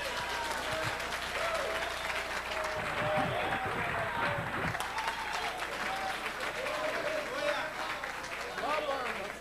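A church congregation claps and cheers in the nave during a sermon, a steady wash of applause mixed with voices and shouts, fairly distant throughout.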